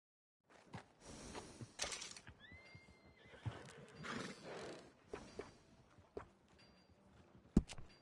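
Inside the Red Dead Redemption 2 game world, a horse whinnies with a rising, wavering neigh while hooves clip-clop on hard ground and tack clinks, with snorts and scattered bumps around it and no talking.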